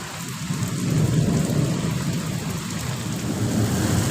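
Heavy night rainstorm with thunder, a steady loud roar of torrential rain with deep rumbling thunder running through it, continuous and close, no voices.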